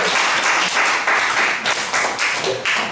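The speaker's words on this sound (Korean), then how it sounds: "박수 한번 치겠습니다" Audience clapping at a lecture on leadership in the AI era, a loud round of applause with rhythmic pulses from many hands, close and continuous.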